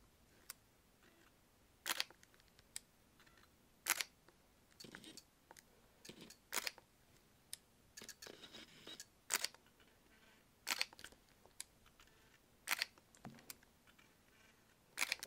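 A Fujinon XF 35mm f/2 R WR lens on a Fujifilm camera runs its autofocus, giving sharp, isolated clicks spaced every second or so with faint whirring between them, all close and quiet.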